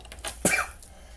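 One sharp, close sneeze bursts out after a brief intake of breath, followed by faint rustling in a quiet indoor room.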